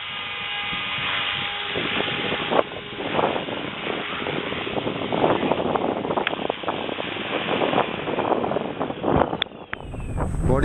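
Outdoors, gusty wind buffets the microphone in rumbling low bursts, with a steady engine-like drone underneath and a few brief sharp sounds near the end.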